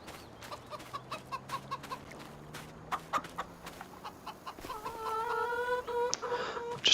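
Chickens cluck in a Farming Simulator 25 game, short repeated clucks in a loose rhythm, joined near the end by louder fowl calls with a busier farmyard background.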